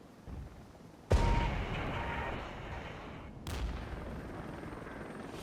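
Heavy artillery fire in the Regiments war game lands in two loud booming impacts, each followed by a long rumbling roar that hangs over a low battlefield background.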